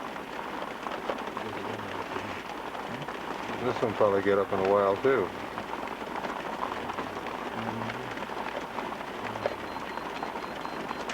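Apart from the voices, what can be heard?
rain pouring on a roof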